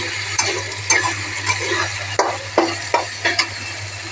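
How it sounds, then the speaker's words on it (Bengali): Onions for chicken do pyaza fry in a pan with a loud, constant sizzle, while a spatula scrapes and stirs in a few clear strokes about every half second. "দেখো কতটা সুন্দর পেঁয়াজটা ভাজা হয়েছে"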